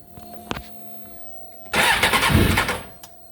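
A Suzuki GSX-R 750 motorcycle with its exhaust baffles removed cranks after a brief click, then catches and roars loudly for over a second before cutting out; close and alone with no talk.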